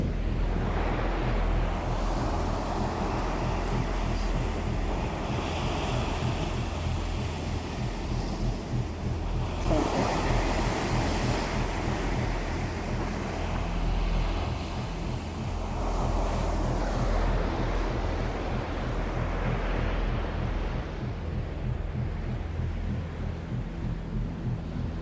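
Ocean waves surge and break on Payangan beach in Jember, with steady wind buffeting the microphone; a continuous roar rises and falls in long swells, loud and close, with no talking.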